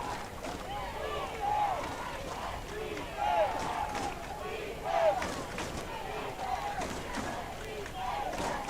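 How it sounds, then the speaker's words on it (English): A high school football crowd at a Tornado home game cheers at a distance in a steady, muffled roar, with a few louder swells of shouting rising and falling. "Press box is shaking as the Tornado crowd gets into it here."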